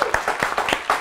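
A studio audience applauds, a dense burst of many hands clapping at once, loud and close, filling the whole second.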